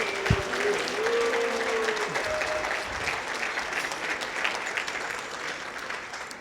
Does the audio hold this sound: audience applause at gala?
yes